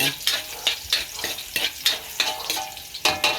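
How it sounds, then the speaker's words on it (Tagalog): Pork sautés in a pan with loud sizzling, broken by rhythmic scraping stirs roughly every half second, close and clear. "Gigisa natin yung pork."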